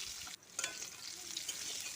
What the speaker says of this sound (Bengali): এখানে পেঁপে আর আলুটা ভাজা হতে থাক